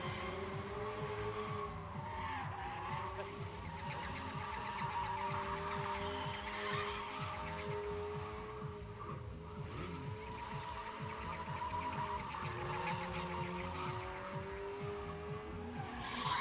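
Cars drift around a night track at Big Indian Drift Pit, engines revving hard and droning continuously while tires squeal and skid, at a steady moderate distance throughout.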